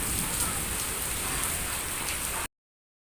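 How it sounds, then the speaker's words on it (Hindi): Heavy rain pours down in a dense, steady hiss with scattered drops spattering on nearby surfaces, continuous and loud for about two and a half seconds before cutting off to silence. "बहुत तेज बारिश हो रही है।"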